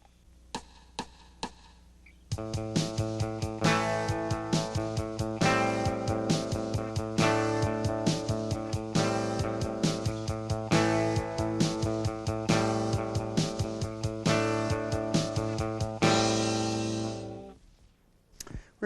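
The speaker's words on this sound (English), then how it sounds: "And with drums, it sounds like this." A rock guitar chord pattern played along with a drum beat, steady kick and snare hits driving under ringing strummed chords, starting after a brief count-in of clicks and fading out at the end.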